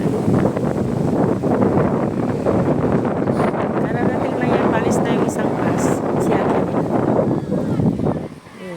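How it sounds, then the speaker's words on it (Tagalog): Strong wind roars steadily across the microphone in a constant, rumbling rush, with voices faintly buried underneath. "Lakas ng hangin, guys. Super lakas ng hangin."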